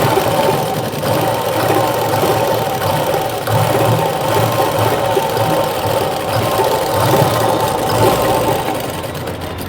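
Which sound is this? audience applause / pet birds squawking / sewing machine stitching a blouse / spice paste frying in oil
sewing machine stitching a blouse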